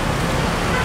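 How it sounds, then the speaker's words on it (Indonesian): Steady roar of road traffic and idling engines from a convoy of about thirty pilgrims' buses, a continuous broadband rumble filling the whole moment with no distinct pauses. "di belakang saya sekarang rombongan bis jemaah"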